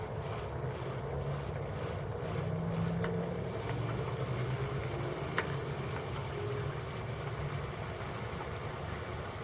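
Low, steady gurgling and churning from a Fluval 306 canister aquarium filter drawing water in while being primed, with a faint occasional click or knock, close and continuous, no talking.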